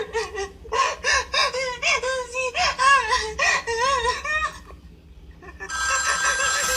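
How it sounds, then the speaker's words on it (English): Old telephone bell in a Black Christmas fan film, ringing in repeated warbling bursts, loud and close, then a brief gap before a harsher ring starts. "is that the original phone?"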